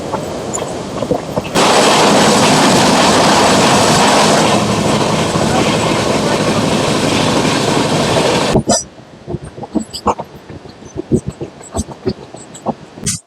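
The Dhauli Express runs on rails with a loud, sustained roar of wheels and carriages that cuts off abruptly, leaving quieter rattles, clicks and bumps inside the train.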